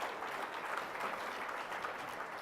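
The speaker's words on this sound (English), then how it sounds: "Give me a round of applause if lunch was good" Lunchtime audience at a workplace panel event applauding, a steady wash of clapping from many hands filling the whole moment, moderately distant and even in level.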